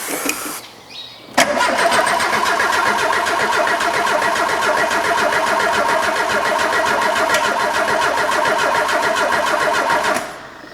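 A Renault 9 engine cranks and tries to start, after a brief clatter that gives way to a long, loud, steady churning of the starter for about nine seconds without catching, then a cutoff, with no talking.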